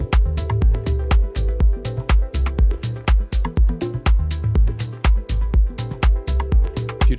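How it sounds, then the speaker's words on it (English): Korg MS-20V synth plugin playing an electric nylon preset as a tension layer: a busy, rhythmic pattern of sharp plucked-string attacks with sustained tones underneath, close and loud, with no talking. "And I'm using this electric nylon preset on all 3 individual layers."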